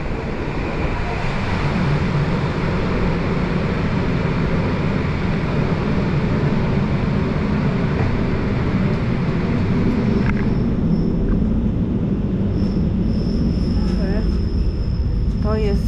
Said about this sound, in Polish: To jest pociąg